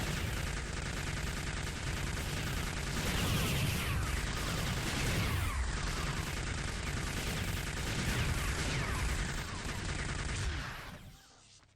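Manned turrets firing nonstop in a video game, a dense, loud roar of rapid gunfire and explosions that runs continuously for about eleven seconds before cutting off.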